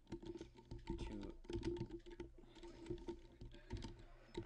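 Code is typed on a computer keyboard in quick, irregular bursts of close, faint key clicks with short pauses between words.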